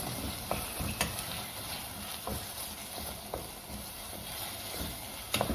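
Sudanese fesikh, salted fermented fish, is stirred in a pan, giving a steady low sizzle with occasional scraping knocks of the utensil, fairly quiet and close, with no one talking.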